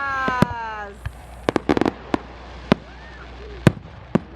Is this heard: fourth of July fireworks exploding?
yes